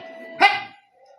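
A person's voice mimics a dog barking: one short, loud, close bark that breaks out of a quiet background and trails off quickly.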